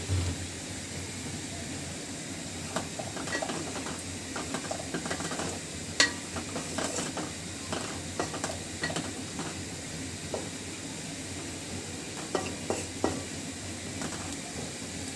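Potatoes and okra sizzle steadily in a hot pan with spiced oil, while a spatula stirs and scrapes in irregular clinks and knocks against the metal, close and alone without talk.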